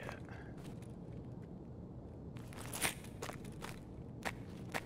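Faint, scattered footsteps in Escape From Tarkov, several soft thuds over a low ambient hum, growing a little clearer and more frequent toward the end.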